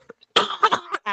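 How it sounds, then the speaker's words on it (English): A single person coughs, a short harsh burst followed by a couple of throaty hacks and a brief voiced tail, close and clear. "Actual cough."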